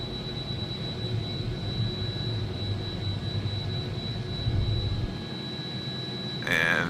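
An AW-109 helicopter engine in the Prepar3D flight simulator hums and whines steadily with a constant high-pitched tone, then swells slightly louder near the end.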